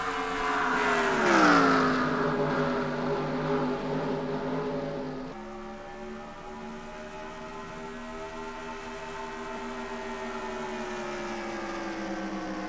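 Several stock cars in a racing video game roar past in succession, their engine tones sliding downward and then holding a steady drone, loud and close with no talk over them.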